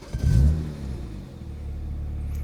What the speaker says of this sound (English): But let's go ahead and turn the car on.